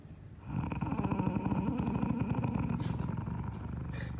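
A person snores loudly with a deep, rasping rattle that kicks in after a short pause and then carries on as a rough, buzzing drone, almost like a motorcycle exhaust.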